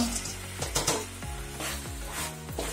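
Okra sizzling as it fries in oil in a pan, with steady crackle and short scraping stir strokes recurring at close range.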